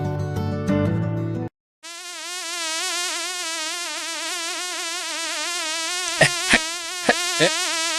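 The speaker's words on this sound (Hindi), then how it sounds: "इस मक्खी को गिरने में कहीं और जगह नहीं मिला, मेरे चाय में ही इसे गिरना पड़ा।" A cartoon housefly buzzes in a steady, wavering drone that runs for several seconds after a short burst of music, with a few sharp clicks near the end.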